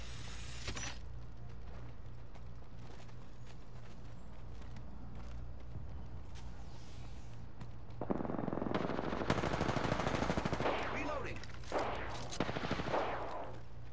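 Rapid automatic gunfire from an Apex Legends firefight crackles in dense bursts over a low steady hum, growing louder and busier in the second half with overlapping volleys and brief pauses.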